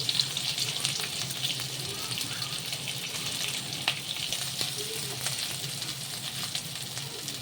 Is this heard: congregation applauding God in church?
no